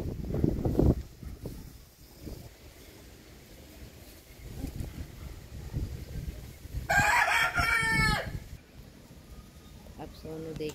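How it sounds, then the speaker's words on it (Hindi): Hens on a home terrace cluck softly in the background before a rooster lets out one loud, close crow lasting about a second, with a person talking at times. "और उधर सारी मुर्गियाँ अपना काम शुरू कर चुकी हैं।"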